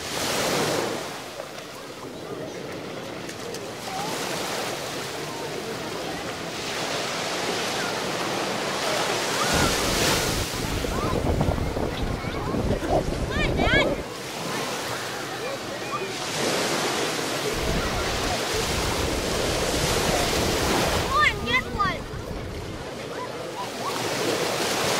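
Sea waves washing onto a beach in steady broad surges, with gusting wind buffeting the microphone throughout.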